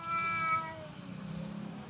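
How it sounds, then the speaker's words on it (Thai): A cat gives a single clear, drawn-out meow close by, then a quieter, rougher murmur trails off. "อ้าวแมว"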